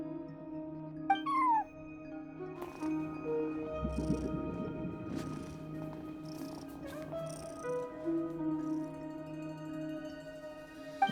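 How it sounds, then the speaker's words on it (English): Meows and purring come from a cat at a front desk in Genshin Impact, a few short calls over a soft game music bed. "No one except for a cat watching over the front desk."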